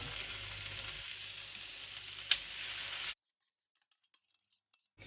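Pork meat sizzles gently in a pan over low heat for about three seconds, with one sharp clink midway, then the frying cuts off to near silence broken by a few faint taps.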